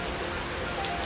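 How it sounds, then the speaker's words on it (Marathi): Rain falling steadily near a village waterfall, a dense, even hiss of drops on surfaces lasting about a second with no breaks. "पाऊस सुद्धा चालू झालेला आहे, तुम्ही बघू शकता."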